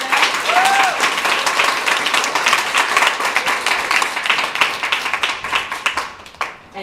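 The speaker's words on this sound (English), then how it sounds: "everyone, please give another round of applause to them" An audience at a youth cancer health conference panel on HPV breaks into sustained applause, dense clapping from a sizable crowd that holds steady, then thins and tapers off near the end.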